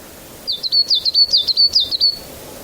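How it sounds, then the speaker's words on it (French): A tit's bright, high chirping call, a quick run of about a dozen rapid notes, close and clear with nothing else behind it. "merci pour ce joli petit bruit d'oiseau"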